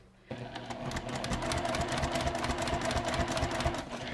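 A sewing machine starts up and stitches fabric steadily, its rapid needle rhythm running loud and close after a brief quiet start.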